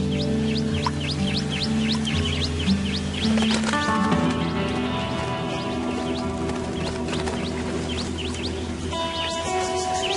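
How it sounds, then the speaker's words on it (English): Pale-headed rosellas give repeated sharp chirping calls over a low droning background, a chorus of bright, quick whistles coming and going, as family groups come in to drink in the Australian outback. "Pale-headed rosellas all come in to drink in family groups."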